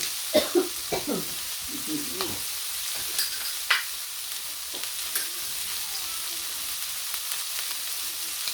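Broccoli with shrimp being stir-fried in a wok, soft sizzling under repeated clacks and scrapes of a utensil against the pan, in an uneven rhythm of close stirring strokes with no voices.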